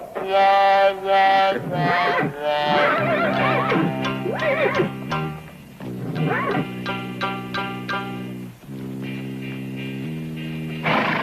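A horse in a 1976 western comedy film neighs and whinnies loudly and repeatedly in strained, distressed cries, with struggling scuffles between calls and no speech.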